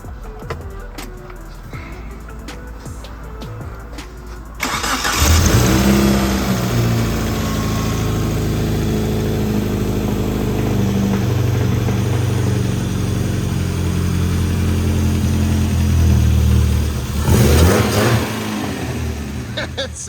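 A Suzuki Samurai fitted with a swapped 1.6L 16-valve engine fires up after a few seconds of quieter sound, then idles and revs loudly and roughly for a long stretch, with a sharper burst near the end.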